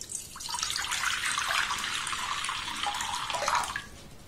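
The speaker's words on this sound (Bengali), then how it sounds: "এর মধ্যে অল্প করে আমি জল দিয়ে দেব" Water poured into a cooking pan before boiling raw mangoes, a close, steady splashing pour lasting a few seconds before trailing off, with no talking.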